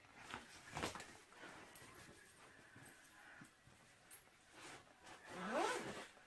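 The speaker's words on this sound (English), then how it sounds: "Recessed zipper." A recessed zipper on a handbag's zip pocket is drawn several times, quiet close-up scratchy zipping strokes, the last one longer and rising, with faint fabric handling between.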